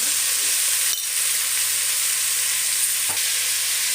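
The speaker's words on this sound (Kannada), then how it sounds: "ತರಕಾರಿ ಫ್ರೈ ಆಗ್ತಾಯಿದೆ." Vegetables for a vegetable pulao frying in a pan, a steady broad sizzle that holds for the whole stretch, with two brief clicks or scrapes of stirring and no voices.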